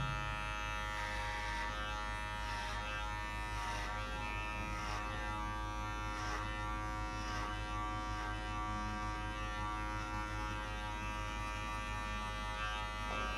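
Electric hair clippers fitted with a number 4 guard buzz steadily and continuously at close range while cutting a girl's hair during a skin fade at a barber, with no talk.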